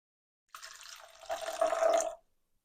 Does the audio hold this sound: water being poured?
yes